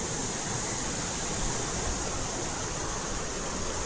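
A waterfall near Mandle village in Mahad, Maharashtra, gives off a constant, even rush of water, broad and hissing, with no breaks and no voices.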